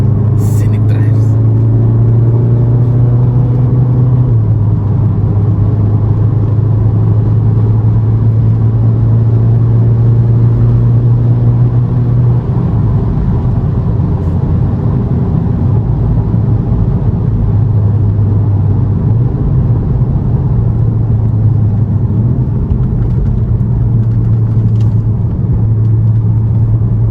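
VW Golf 7.5 R engine on a mountain road at Magoebaskloof, South Africa, a steady loud drone with pitch steps as the gears change down, running continuously throughout.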